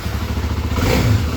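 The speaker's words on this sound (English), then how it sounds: "it rattles the whole time" A loose plastic body panel rattles on a Kawasaki KLX300 dirt bike, a fast, steady buzzing clatter over the low drone of the running single-cylinder engine, close to the microphone and with no talking.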